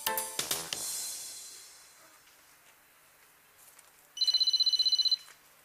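A telephone rings in a domestic comedy scene: one short burst of rapid, bright electronic trilling lasting about a second, following a brief clatter and a quiet pause, with no voices.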